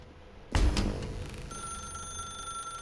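A telephone in The Stanley Parable starts ringing suddenly and loudly, a bright bell tone that sustains and continues ringing through the rest of the moment, alone without speech.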